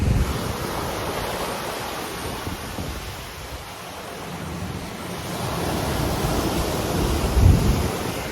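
Ocean surf washes steadily onto a warm South Florida beach under heavy wind rumble, a loud continuous roar that swells near the end.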